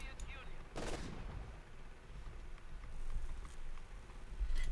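HM38 120mm heavy mortar firing in Company of Heroes 2, a sharp distant-sounding boom early on with a rumbling tail, followed by scattered fainter battle thuds under a steady game background.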